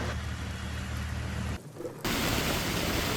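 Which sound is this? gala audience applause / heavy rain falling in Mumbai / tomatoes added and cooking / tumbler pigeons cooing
heavy rain falling in Mumbai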